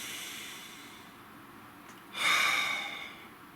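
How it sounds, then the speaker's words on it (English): A slow, deep inhale and exhale during a tarot card reading, a soft airy breath swelling near the end, close and quiet, alone without speech. "Nice deep breath."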